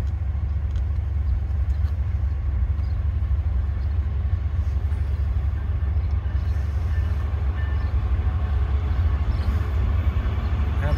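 A southbound CSX mixed manifest freight train rumbles steadily past at close range, with continuous low wheel and railcar noise throughout.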